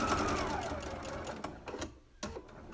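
Sewing machine stitching a fabric face mask, a close steady mechanical whir of rapid stitching that stops briefly, restarts for short bursts and slows near the end.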